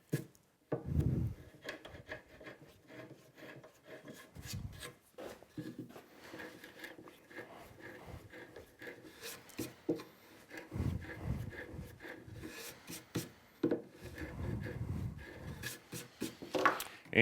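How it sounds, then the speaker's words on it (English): A small countersink tool turned by hand in wood screw holes: faint, intermittent scraping and rubbing bursts with brief knocks, close and quiet against a hushed workshop. "I'm just going to countersink these by hand. A little countersink tool."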